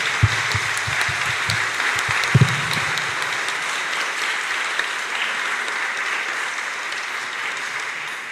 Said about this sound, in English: And let's tell them so with some applause.